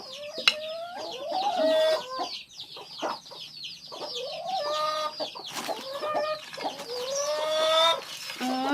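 Backyard laying hens cluck and squawk close by in a series of rising, bursting calls with brief gaps, several birds overlapping, with no talking.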